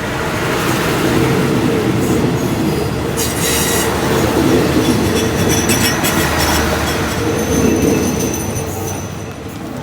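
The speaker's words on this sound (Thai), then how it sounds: "ขบวนด่วนที่ 83 นะครับพ่วงรถนอนปรับอากาศชั้น 2 มา สี่คันนะครับ" Alsthom 4125 locomotive hauling Thai express train 83 with second-class air-conditioned sleeper cars past a station at Ratchaburi; a loud, continuous rumble of rolling wheels and carriages, with wheel squeal and clatter rising midway, heard up close.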